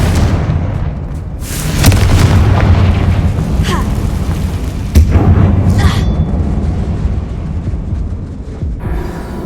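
A Confringo spell in Hogwarts Legacy set off inside a closed-up mine, heard as heavy booming blasts over a rumbling, crackling bed of noise, with two strong impacts standing out a few seconds apart and a voice briefly heard.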